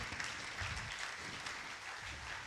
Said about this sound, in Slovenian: In z velikim aplavzom pospremimo na oder